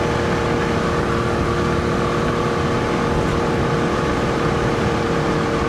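A 1997 Suzuki Cappuccino's engine hums steadily while driving, a dense, continuous drone with a low rumble and a faint tonal whine that holds level throughout, with no talking.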